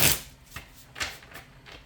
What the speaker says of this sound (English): I'm going to pull or shuffle and get 3 tarot cards out of this